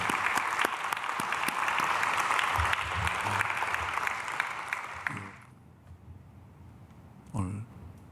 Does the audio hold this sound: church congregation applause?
yes